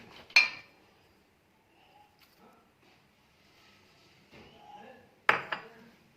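Pumpkin raita being stirred in a bowl, with two sharp spoon-against-bowl clinks near the start and end and soft scraping between, close and fairly quiet.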